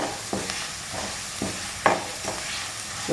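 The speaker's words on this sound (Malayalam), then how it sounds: "മുളക് പൊടിയൊക്കെ എണ്ണയിൽ നന്നായി മൂത്ത് വന്നിട്ടുണ്ട്" Chili powder frying in hot oil in a pan for a Kerala drumstick leaf stir-fry, a steady sizzle broken by a regular series of spoon-stirring scrapes, close and moderately loud, with no talk.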